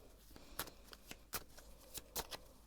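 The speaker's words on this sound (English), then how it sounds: "So I'm going to shuffle a little bit more" A deck of tarot cards being shuffled close by, a series of quick riffling snaps and soft slides in uneven bursts in a quiet room.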